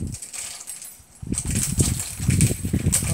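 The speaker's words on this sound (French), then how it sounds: "Le bruit que vous entendez, c'est mon rideau." Curtain at an open door shifting in the wind on a sunny day, heard as soft, irregular rustling and light rattling taps over a faint background hiss, fairly quiet with no talking.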